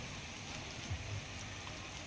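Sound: heavy rain falling in town streets

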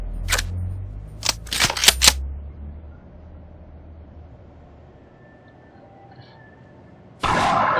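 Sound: reloading a gun in Garry's Mod video game

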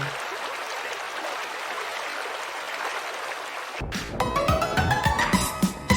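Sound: river stream flowing in a flash game

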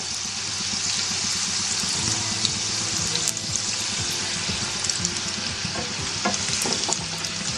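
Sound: chicken keema kachori frying in oil on low flame

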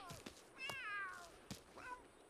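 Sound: cat meowing in the video game The Sims 3

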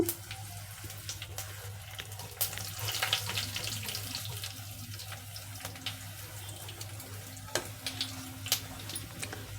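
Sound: cumin, mustard seeds and dried red chillies spluttering in oil

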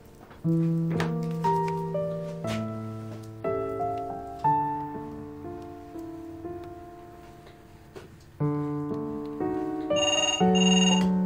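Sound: telephone ringing during a call

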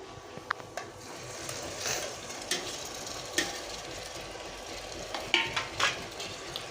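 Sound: fried chicken pieces added to curry and stirred in pan

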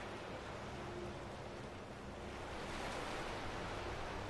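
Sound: swimming through water in Skyrim video game

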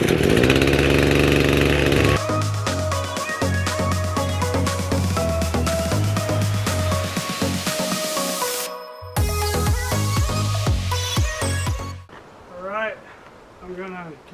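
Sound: chainsaw cutting logs

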